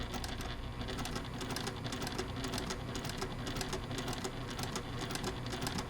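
Sewing machine top stitching the faux-piping binding along the seam between two fabrics on a quilted table topper, a steady fast mechanical patter running continuously at a low, even level with no talk.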